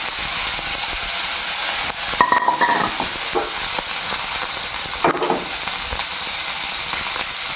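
Onions and chana dal sautéing in a pan with salt, a steady bright sizzling hiss throughout, broken by a few clinks and scrapes of a spoon stirring.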